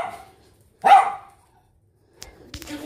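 A puppy lets out one sharp, close bark, then quiet follows before faint rustling and clattering nearby.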